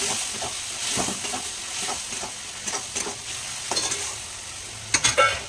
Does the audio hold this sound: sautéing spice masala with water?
yes